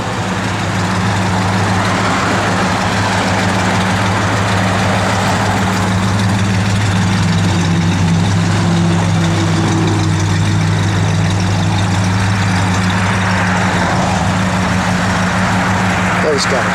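A 1964 Buick Riviera engine idles with a deep, steady rumble, continuous and loud throughout. A voice speaks over it.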